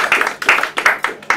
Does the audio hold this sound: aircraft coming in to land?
no